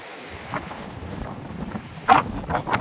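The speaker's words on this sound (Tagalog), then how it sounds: "Taas ng hangin." Steady strong wind at a beach in Pangasinan rushes across the microphone with a low rumbling roar, a few louder gusts swelling near the end; no one speaks.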